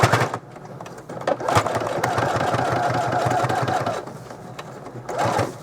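A sewing machine back-stitches through thick curtain fabric for a travel trailer's curtains. A sustained, close, mechanical hum runs for a few seconds, then short bursts follow after a pause.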